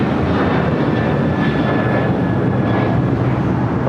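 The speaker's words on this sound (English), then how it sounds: "That is United Airlines 2140 taking off to Houston Intercontinental on 737-900ER." A United Airlines Boeing 737-900ER roars down the runway on takeoff at LAX, a continuous loud engine rumble with a rising whine, heard alone and steady throughout.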